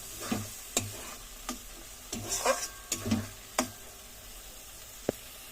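Loitta fish curry cooking in a pan, with a soft sizzle under scattered scraping stirs and sharp spoon taps at an uneven pace, close by, with no talking.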